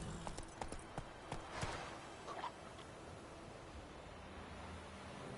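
Roach the horse trots in The Witcher 3, hooves clopping in an irregular rhythm at first, then fading under a steady wind-like outdoor hiss, faint overall.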